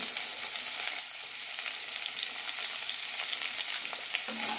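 Sliced okra sautéing in about two teaspoons of oil with turmeric and salt in a pan, giving a steady, close hiss of frying with light stirring scrapes throughout and no voices.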